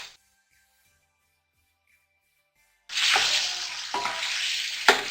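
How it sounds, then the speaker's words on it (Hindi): Beef pieces and dried plums frying in masala for a beef yakhni pulao, a loud sizzle bursting in after near silence, with a couple of stirring scrapes, close by with no talking. "जो गोश्त मैंने अलग किया था वो हम डाल के इसे फ्राई करेंगे"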